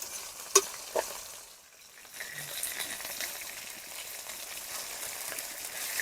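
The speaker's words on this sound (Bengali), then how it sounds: "মাছটা ভালো করে উল্টে পাল্টে ভালো করে লাল লাল করে ভেজে নেবো।" Boal fish pieces frying in mustard oil, a soft crackling sizzle after a couple of sharp knocks, dipping briefly quiet before the frying hiss returns steady and moderate.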